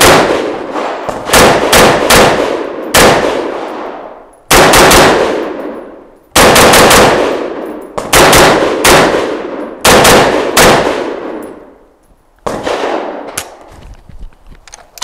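Rapid strings of CETME LC rifle shots with sharp reports and long ringing decays, fired in quick doubles and triples, loud and close, separated by brief pauses.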